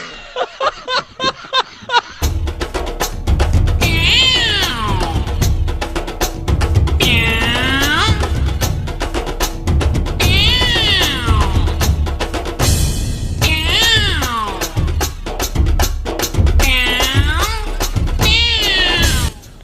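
A person imitates a cat, with repeated drawn-out meowing and yowling calls alongside snickering laughter, loud and close, over a steady backing rhythm.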